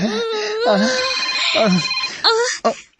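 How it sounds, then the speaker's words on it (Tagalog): A phone ringtone rings with a melodic electronic tone, mixed in with other voices and background sounds, ending abruptly. "Giunin mong imong cellphone."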